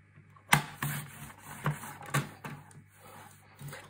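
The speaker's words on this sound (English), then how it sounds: "just trimming off a little bit" Paper being trimmed by hand for a handmade album, giving a few sharp, close cuts and clicks spaced unevenly, followed by quieter rustling.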